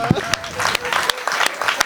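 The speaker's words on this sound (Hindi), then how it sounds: "एक बार ताली बजाए।" Audience at a Hindi poetry gathering claps in scattered, uneven bursts, with sharp individual claps over a murmur of voices and talk.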